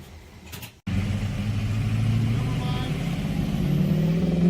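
A truck engine runs steadily close by after a sudden start, a low continuous rumble blowing black smoke, with people talking over it.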